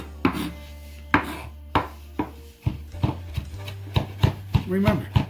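A knife chops garlic and parsley finely on a board, giving about a dozen sharp, separate knocks in an uneven rhythm, close by, with a low steady hum underneath.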